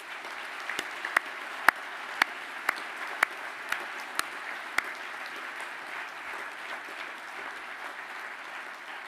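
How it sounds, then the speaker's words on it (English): An audience at a graduation ceremony gives a sustained round of applause to honour a student who died, a steady wash of clapping with a few sharp, distinct claps standing out near the start, then slowly thinning out. "I'd like if you could honour Stephen by a round of applause"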